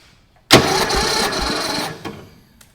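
A lawn tractor engine on a dead battery cranks loudly for about a second and a half, then a few weaker turning-over bursts trail off without firing.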